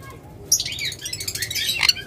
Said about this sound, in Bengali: তো চমৎকার এই টেম ককাটেল এই টেম সানকুনো জোড়াটা নেবেন